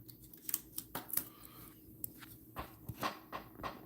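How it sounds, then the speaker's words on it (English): Scissors snip pieces during a monster model craft build, several short crisp cuts spaced irregularly with small handling knocks between them, close and quiet with no voices. "And then we'll cut these right about there."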